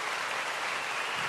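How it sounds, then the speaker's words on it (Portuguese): A church congregation applauds during a celebration service, a dense, steady wash of clapping filling the short moment without pause. "uma salva de palmas para todo mundo que estava aqui."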